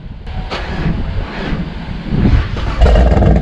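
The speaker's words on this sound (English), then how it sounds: "All right, now we're gonna crank it over." A Chevrolet Camaro engine cranks over and catches, its rough rumble building and growing louder toward the end, close to the microphone with some wind buffeting.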